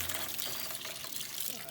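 Engine coolant, water mixed with antifreeze from a T25 transporter's 1900 diesel conversion, draining into a bucket as a steady close splashing trickle with no pause.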